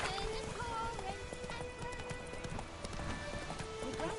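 Hooves of the horse Roach clip-clop in a steady galloping rhythm in The Witcher 3, close and fairly loud under game music and background ambience.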